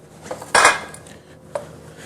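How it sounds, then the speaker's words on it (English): A knife cuts cooked steak on a plate or board, giving a loud scraping clatter of metal on the surface, then a shorter, lighter tap a second later, close by. "we're going to go ahead and cut our steak up"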